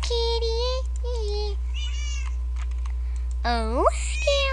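Repeated meows from Minecraft cats, a run of clear, drawn-out calls with rising and falling pitch, close and fairly loud over a steady low hum, with faint keyboard-like clicks between them.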